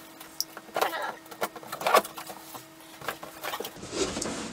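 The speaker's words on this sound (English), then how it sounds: "So let's go ahead and get started and open the box." Scattered crinkles, taps and scrapes of a cardboard box being opened around an HP Deskjet Plus 4158 printer, with faint handling rustle between the louder clicks and no talking.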